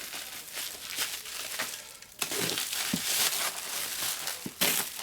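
A freshly sharpened knife slicing through an old, rotten cardboard box, giving close scraping and crinkling tears in short bursts with a brief pause midway.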